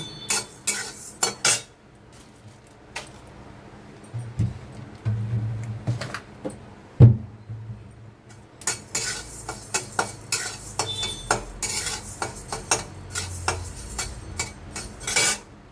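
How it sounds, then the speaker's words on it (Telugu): Coriander seeds dry-roasting in a pan over low heat, stirred with a utensil that scrapes and clinks in repeated bursts, with a soft faint crackle beneath and a few pauses between stirs. "ధనియాలు వేగుతున్నాయి."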